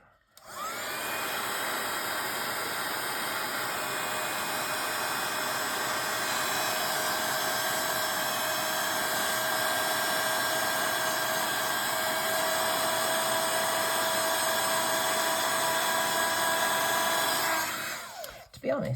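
A heat tool blows a continuous steady whirring hiss for about eighteen seconds while drying a first layer of ink on a craft card, close up and unbroken until it switches off at the end.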